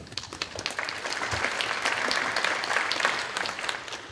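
Parents and students at an eighth-grade scheduling night start clapping and build to a full, steady round of applause that carries on for several seconds.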